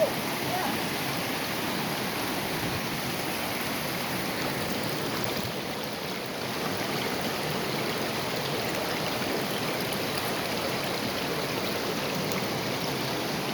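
A small stream of moving water rushes and gurgles steadily in a garden, a loud, even, close wash of flowing water with no talk.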